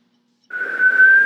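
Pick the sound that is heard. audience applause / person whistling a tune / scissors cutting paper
person whistling a tune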